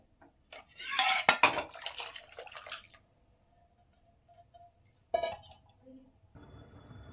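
Cooked drumsticks clatter into a pot of lentils, with a burst of metal pot and utensil clinks, a pause, then a few more sharp clanks and soft scraping nearby.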